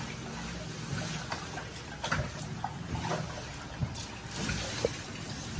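Marinated pork belly rinsed under running water, a continuous close splashing rush with irregular splatters as the meat is handled, fairly loud throughout.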